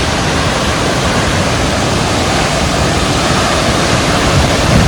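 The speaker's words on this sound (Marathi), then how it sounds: "आता तुम्ही अजून जवळ बघताय धबधबा बघा स्पष्ट दिसतोय धबधबा नाणेमाची" Nanemachi waterfall in the monsoon-swollen Sahyadri hills roars as a loud, steady, unbroken wash of water with no voices over it.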